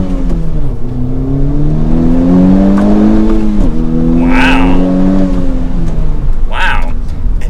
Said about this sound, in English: That was a pretty shift 2nd to 3rd gear change, or 1st to 2nd